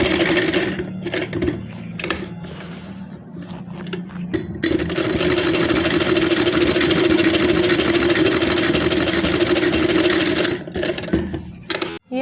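Sewing machine stitching a wave design, a few short stop-start bursts of stitching at first, then a long continuous close, loud run of rapid mechanical whirring before it stops near the end.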